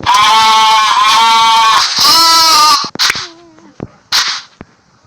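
Sheep in the video game Minecraft give several loud, near bleats in quick succession, followed by short clicks and brief game sounds with quieter gaps.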